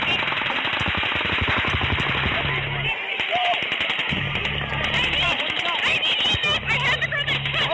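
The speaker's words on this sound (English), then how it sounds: "We just hear the gunshots. Okay. You can hear. Okay, just sounds like machine guns." Rapid bursts of machine-gun-like gunfire crackle repeatedly on a 911 call recording during an attack at an outdoor stage event, loud and sustained with short gaps, under a caller's agitated speech.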